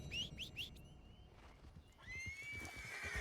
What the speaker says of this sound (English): Why is my second horse here?